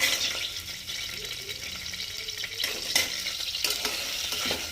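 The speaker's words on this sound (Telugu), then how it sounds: "ఇవి వేసుకొని లైట్గా ఫ్రై చేసుకోవాలి" Onions, green chillies and bay leaf sizzle lightly in hot oil for coconut milk rice, a steady soft frying hiss with occasional stirring scrapes, close and moderately loud with no talk.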